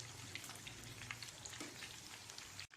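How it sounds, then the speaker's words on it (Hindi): Chicken pieces frying on medium flame for chicken Bukhara, with a soft, steady sizzle, light crackling spatters and a low hum, faint and even, ending in a brief clatter, no voices. "चिकन के पीसेस को बस एक 5 से 6 मिनट तक ही फ्राई करें मीडियम फ्लेम पे"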